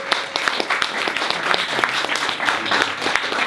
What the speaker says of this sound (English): Kind of a massive round of applause for our next act